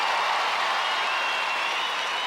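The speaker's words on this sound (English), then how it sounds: "Let's have a big round of applause for CJ for Great Britain and Catherine for Australia." Studio audience at an Australian Gladiators show applauding two contestants, a dense, even wash of clapping and crowd noise that holds steady and loud for the whole moment.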